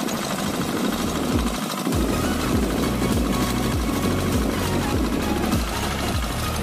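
A Samson tractor ploughing a hard, wet rice field runs with a loud, steady diesel chugging and knocking rhythm, engine thumps repeating continuously up close.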